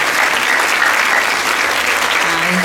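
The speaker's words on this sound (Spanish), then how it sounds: "yo les pediría un aplauso" Audience applause for a panel of speakers at a forum marking ten years since Ayotzinapa, steady and dense throughout, with no voices rising above the clapping.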